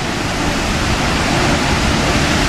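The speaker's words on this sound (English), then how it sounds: "get back to the main falls." Cohoes Falls in New York pours with a loud, dense, unbroken roar of rushing water, steady and close throughout, with no voices.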